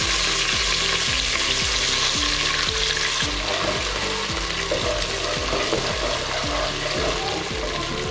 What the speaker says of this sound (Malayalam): അപ്പോൾ നമുക്കിനി കരിവേപ്പ് ഇട്ട് കൊടുക്കട്ടോ.